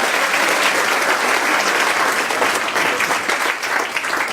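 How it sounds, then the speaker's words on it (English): Loud, dense applause from a large audience for a speaker keeps up without a break, the crowd's clapping steady and close throughout. "Can we give Rama a big round of applause"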